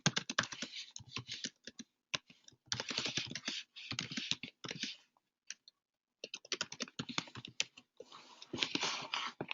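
Close, quiet typing on a computer keyboard as a chat message is entered, rapid clicking key strokes in uneven bursts separated by short pauses, with no voices.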